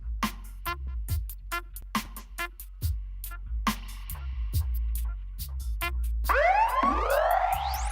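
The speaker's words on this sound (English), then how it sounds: "Siren's a little loud." Siren effect in a dub music track, rising and swooping loudly over the final seconds on top of a pulsing bass and rhythmic skank chords.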